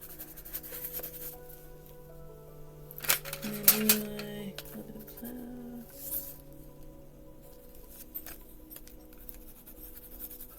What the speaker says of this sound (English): I think I'm going to try to see if I can erase that little line